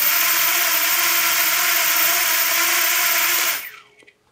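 Rear motor of a Raiju drone spinning at minimum throttle, a steady high whirring whine with layered tonal hum, close and loud, cutting off abruptly near the end with a few faint rattles as it winds down.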